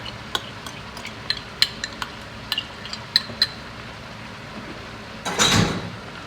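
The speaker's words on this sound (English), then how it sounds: "we're just going to mix that until everything's well blended" A spoon taps and scrapes lightly in a bowl while mixing beef empanada filling with tomato sauce, giving a series of faint, irregular clinks, then one louder, brief rustling scrape near the end.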